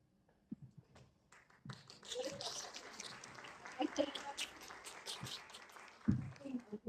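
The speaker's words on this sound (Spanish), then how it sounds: "nos unimos todos a este aplauso" A crowd breaks into applause after a few scattered claps, building into sustained clapping that carries on for several seconds.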